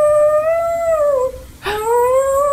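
A corgi lets out a long, rising-and-falling wolf-like howl close by, breaking off briefly before starting a second drawn-out howl.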